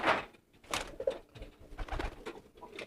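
A racing pigeon coos softly as it is put back into its cage, giving a few faint, low throaty coos against quiet background rustling.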